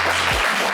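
Brief burst of dense clapping from a television studio audience, steady and loud for under a second.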